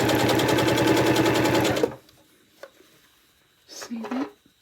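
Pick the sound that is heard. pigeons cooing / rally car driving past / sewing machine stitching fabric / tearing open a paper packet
sewing machine stitching fabric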